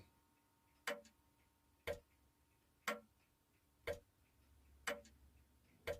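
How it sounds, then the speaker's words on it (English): A wall clock ticking, six sharp, evenly spaced ticks about one second apart, crisp and close in an otherwise quiet room. "There's the wall clock. It's got a really nice tone to it."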